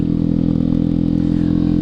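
A 1977 Vespa Super 150 scooter engine runs steadily at close range, a loud continuous two-stroke putter with an even pulsing beat and no talk.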